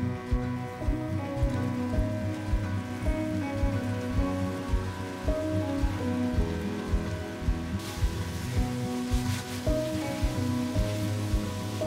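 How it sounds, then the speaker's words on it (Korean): Soy braising sauce bubbles and simmers in a pan as fried eel goes in, a steady crackling sizzle with dense popping, close and moderately loud, with no talking. "잘 섞어서 보글보글 끓여주세요."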